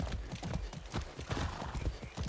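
A horse in the video game Far Cry 6 trots with a busy, rhythmic clip-clop of hooves, loud and close in the game mix for a couple of seconds.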